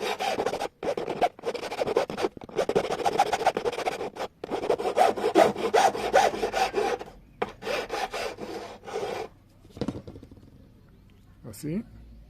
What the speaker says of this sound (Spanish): vamos con una lima a emparejar o a darle la forma